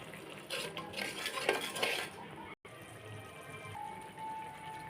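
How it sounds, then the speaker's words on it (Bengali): Khichuri spices with salt and chilli powder being sautéed in oil, with a spoon scraping and clinking against the pan in a cluster of stirs, then a quieter stretch with a faint steady sizzle. "এখন একটু তেল দিয়ে কষিয়ে নিব।"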